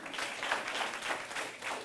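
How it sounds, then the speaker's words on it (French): An audience at a high-school quiz contest applauds a contestant, a brief, steady burst of clapping that stays moderately loud throughout. "Applaudissez pour lui, s'il vous plaît"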